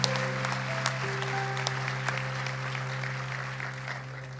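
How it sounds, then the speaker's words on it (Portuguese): Sustained applause from a church congress audience, a dense even wash of clapping heard over a steady droning tone, continuing throughout without letup. "Pode aplaudir com mais vontade."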